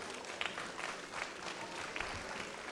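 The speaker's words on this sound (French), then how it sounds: "On peut les applaudir très fort." An audience at the SwissEurobot 2017 robot competition applauds the teams after a round ends, a steady wash of clapping with scattered louder bursts, heard from within the crowd.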